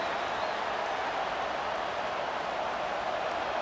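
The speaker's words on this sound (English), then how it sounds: "The crowd getting behind this defense as they try to get a stop in the red zone" Crowd noise from the stadium in the College Football 25 video game, an Alabama home matchup against Oklahoma, rising as the defense tries for a red-zone stop: a steady, loud wash of cheering throughout with no clear talk.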